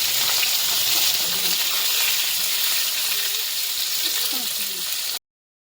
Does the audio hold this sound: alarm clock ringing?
no